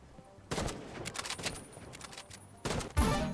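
Rapid bursts of automatic gunfire from the Roblox Rivals shooter game, fired in quick clusters with short gaps, loud and close, ending in a sharper burst.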